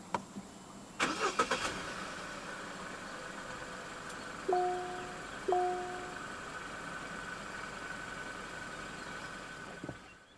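A 2025 Omoda C9 2.0 turbo AWD is started with the push button: a short cranking burst catches into a steady idle, and two brief chime tones follow over the engine hum before it settles.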